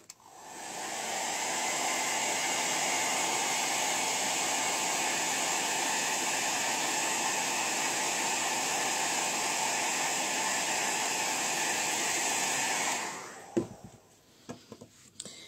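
A hair dryer blows steadily on a handmade craft basket, a loud continuous close rushing hiss that switches on, holds for about twelve seconds, then cuts off into a few handling knocks.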